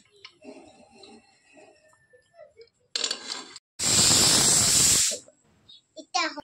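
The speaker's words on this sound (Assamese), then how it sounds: "ঢেকনিখন মাৰি দিলে এতিয়া সিজি থাকিব।" Vegetables boiling in a covered pot give a loud, steady steam hiss that lasts about a second, with quieter kitchen clatter and brief bursts before and after it.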